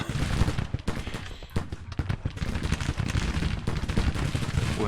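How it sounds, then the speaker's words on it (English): Civil War infantry units firing in the Grand Tactician video game: dense, continuous volleys of musket shots crackling in overlapping bursts, loud and sustained throughout. "now both units are firing"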